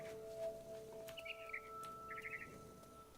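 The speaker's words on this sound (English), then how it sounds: "Then I heard chirping outside my window." A barn swallow in the video game What Remains of Edith Finch gives two short bursts of bright chirping, faint and slightly distant, over a quiet background with soft sustained tones.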